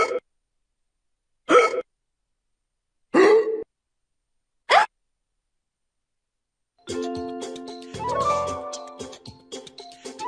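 Hiccup sounds in a Masha and the Bear memory game, four short, sharp hiccups spaced roughly a second apart, followed by a burst of cartoon music and sound effects.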